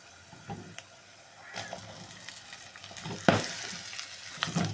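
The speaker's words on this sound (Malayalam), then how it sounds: "നമുക്കിനി അതിലോട്ട് നമ്മൾ കട്ട് ചെയ്ത് വെച്ചിരിക്കുന്ന സവാള ഇട്ട് കൊടുക്കാം" Chopped onions sizzling in hot oil in a pan for a homestyle chicken curry, a soft, steady crackling fry with occasional stirring scrapes, fairly quiet and close.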